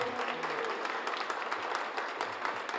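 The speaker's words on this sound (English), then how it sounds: "Can you please give her another round of applause?" An audience applauds at a portrait unveiling ceremony, with steady, even clapping from a crowd that holds at a moderate level throughout.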